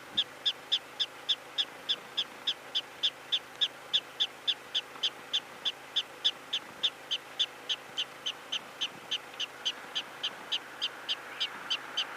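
Prairie dogs in a colony of mounds at Badlands National Park give a steady, rapid series of sharp, evenly spaced chirps, about three per second, moderately near and continuing without pause against a quiet outdoor background.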